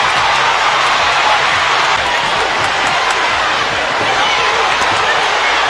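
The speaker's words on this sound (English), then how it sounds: "The crowd is going wild" Arena crowd roaring at a women's combat fight, a loud, continuous wall of cheering and shouting that stays dense from start to finish.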